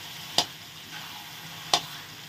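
Eggplant being stirred in a frying pan for baingan bharta, with two sharp spatula scrapes against the pan about a second apart over a faint, steady sizzle.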